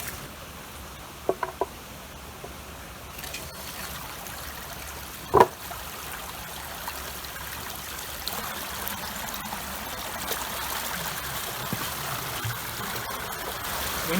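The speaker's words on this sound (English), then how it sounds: "there's a little trickle coming out from the stream" Water trickles out of a farm sluice and bund into a stream in County Cork. The flow is faint and steady, with a few soft knocks and one sharp bump partway through, and no voices.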